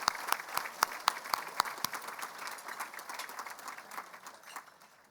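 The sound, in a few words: audience applause at award dinner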